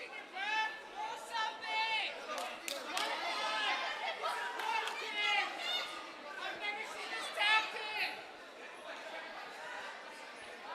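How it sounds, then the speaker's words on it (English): Crowd noise at a mixed martial arts bout in a national fighting tournament, a steady dense babble of many voices with rising swells of excited shouting and cheering throughout. "You could hear it. The crowd's loving this fight."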